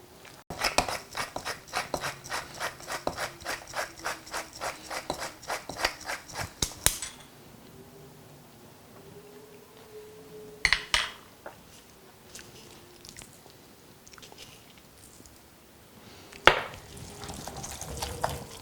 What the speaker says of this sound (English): Something therapeutic about using a mortar and pestle.